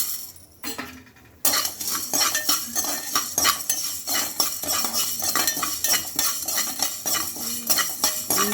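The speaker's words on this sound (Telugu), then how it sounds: "కలర్ మారేంత వరకు ఇట్లాగా ఫ్రై చేసుకోవాలండి" Chicken pieces frying with black pepper and spices in a pan, loud sizzling under steady scraping and clinking of a metal spatula against the pot, starting after a brief quiet moment.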